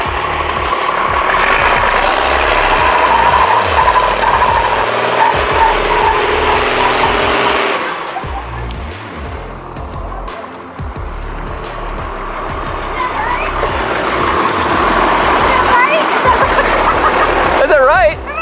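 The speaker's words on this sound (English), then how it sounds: "All right, Mom, so this is your last burnout." A Cummins diesel-swapped Chevrolet C10 truck doing a burnout, its engine roaring loud and close with a high tire squeal that drops away midway, then the revs build back up; voices talk over it.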